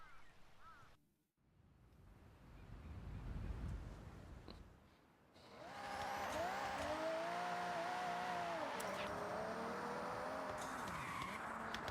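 A car drifts in GTA Online, its tires squealing loudly in long wavering howls over the engine after a quieter rumbling stretch.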